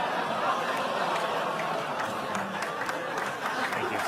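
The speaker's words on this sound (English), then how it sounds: "Some applause." Studio audience at a late-night comedy news desk breaks into steady applause, a dense, even wash of clapping that holds at a constant level for about four seconds with no voice over it.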